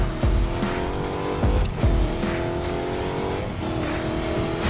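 A Dodge Challenger SRT Hellcat in a racing video game drifts at full throttle, its engine roaring steadily while tires squeal through repeated slides, loud and close with no talk.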